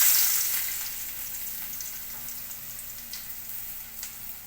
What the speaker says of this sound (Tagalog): magigisa na tayo guys ng patola with sardinas